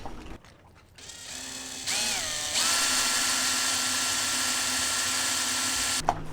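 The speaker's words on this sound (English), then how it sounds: "Drilling holes through the deck is always fairly nerve-wracking." A power drill whirs up to a steady high-pitched spin, bites into a boat deck and grinds continuously for several seconds, close and loud, then stops.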